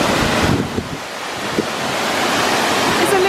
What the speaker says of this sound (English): This waterfall is amazing. This is the Cascada Adonis.